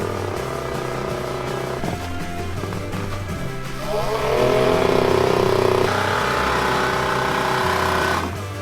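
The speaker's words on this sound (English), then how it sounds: "those were just idle revs" A WFM two-stroke racing motorcycle sits near at idle on a track, buzzing and popping unevenly, then rises into a few louder, raspy revs midway before easing back down.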